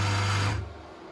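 A Velashape body slimming machine runs at a faster speed setting, giving a steady mechanical whirr with a low hum. It is loud and continuous at first, then drops off sharply to a quieter residual drone partway through, with no talking.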